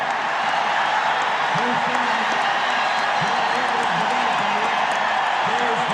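Redskins fans roar steadily through a Super Bowl 17 game against the Dolphins, a broad continuous crowd wash from a large stadium, with a voice talking over it.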